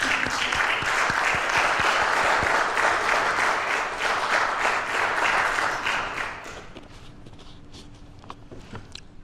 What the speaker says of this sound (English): So I want you to give them another round of applause.